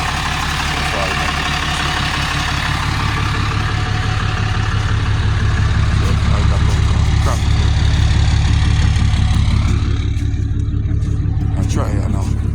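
The engine of a truck stuck in snow runs loud and steady at close range, a deep continuous rumble with a rough mid-range drone, while people talk over it.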